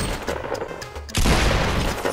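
Video game shooting range gunfire: a few scattered shots, then a dense, loud burst of rapid fire in the second half.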